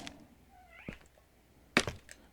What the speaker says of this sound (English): My cat is outside the door, very insistent about wanting the door open